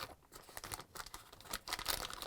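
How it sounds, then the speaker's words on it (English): A plastic bag being pulled up off a washer's motor wiring harness crinkles and rustles in quick, irregular bursts, close and fairly quiet with no talking. "Next, I'm going to pull up the plastic bag here."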